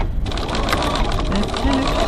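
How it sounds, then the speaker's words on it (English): A home sewing machine runs continuously at close range, stitching a 3/8-inch seam at stitch length 2.4 to close a hole in a bag lining, a steady mechanical whir throughout. "I'm just going to start where I finished stitching before and"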